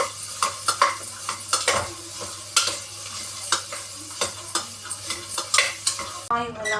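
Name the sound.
sautéing onion and chili in oil in a pan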